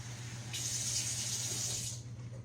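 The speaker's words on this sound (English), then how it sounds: "I'm just going to get some plain water today. I'm going to put it in the glass." Tap water runs steadily from a kitchen faucet into a drinking glass, a continuous close hiss that starts abruptly and stops after about a second and a half, over a low hum.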